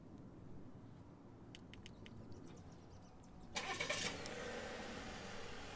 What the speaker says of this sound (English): Let's go ahead and remote start it again.